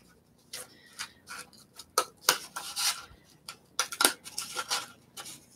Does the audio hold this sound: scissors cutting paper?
yes